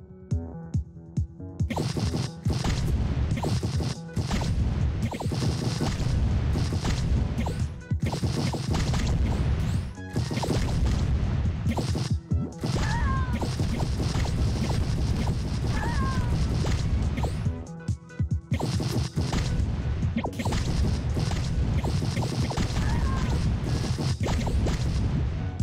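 Bombs going off in the multiplayer video game Ponpu, a dense run of loud crashing blasts and thumps that comes in bursts over a busy game soundtrack, with brief pauses between stretches.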